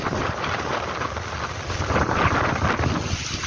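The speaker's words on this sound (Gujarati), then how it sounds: "અહીંનું ખાલી પવન બહુ છે એટલે તમને પવનનો અવાજ આવતો હશે" Strong wind roars steadily around a hilltop Hinglaj Mata temple at Dhari in Amreli, surrounded by forest, buffeting the microphone with continuous loud rushing noise and gusts throughout.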